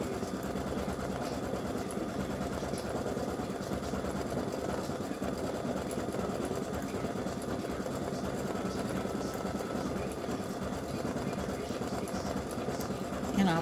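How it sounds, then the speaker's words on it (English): A free-standing-lace embroidery machine runs a satin stitch around the edge of a gingerbread house ornament, giving a steady, dense mechanical whirr. It holds at an even level throughout with no break. "It's doing a satin stitch around the edge"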